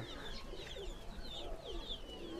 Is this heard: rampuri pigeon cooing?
yes